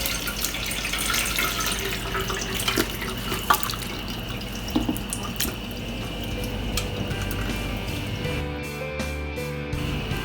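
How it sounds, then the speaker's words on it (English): Cooked mutton biryani broth is strained, liquid pouring and splashing steadily with occasional clinks, close and continuous, easing into quieter drips at the end. "I'm going to be straining it out."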